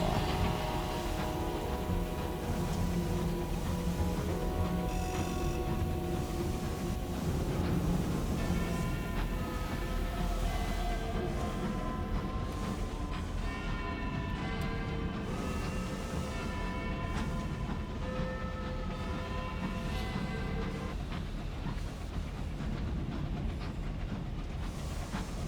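An airborne locomotive engine from the video game Sunless Skies gives a continuous rumbling chug with hissing steam and layered, sustained tonal hums, steady and close throughout with no voices.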